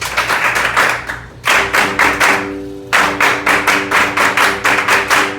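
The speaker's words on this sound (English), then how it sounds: "Let's clap our hands for Jesus." A church congregation in Haiti claps hands in unison, steady rhythmic claps in two bursts separated by a short pause, with a musical tone sounding underneath.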